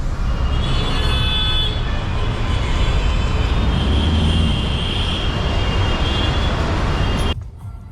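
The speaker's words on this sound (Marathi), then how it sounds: "आमच्या गावात बघा हे ट्रॅफिक लागल्या." A village road is jammed with traffic, a steady loud drone of idling and creeping vehicles with horns honking over it, close by throughout before cutting off abruptly near the end.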